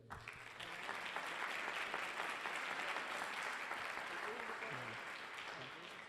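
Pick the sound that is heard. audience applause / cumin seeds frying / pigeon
audience applause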